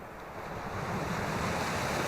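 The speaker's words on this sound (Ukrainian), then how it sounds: "море штормить, пірс заливає" Stormy sea waves surge and wash over a pier on a winter fishing trip at Odesa, a steady loud roar of surf with wind buffeting the microphone throughout, no voices.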